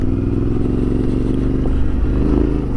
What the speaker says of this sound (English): It's a powerful motorcycle, this is.